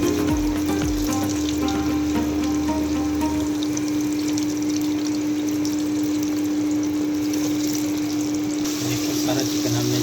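Marinated, flour-coated chicken sizzles steadily in hot ghee inside a pressure cooker, a dense continuous frying hiss with a steady hum and some stirring clatter near the start.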